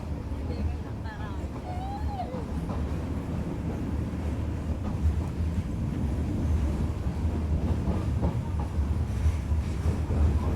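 A passenger train rumbles steadily along the rails on a rural line between Nanpara and Mailani, heard from inside a coach, with faint rhythmic clatter and speech over it.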